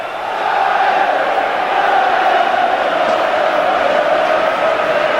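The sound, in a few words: football crowd cheering at Wembley play-off final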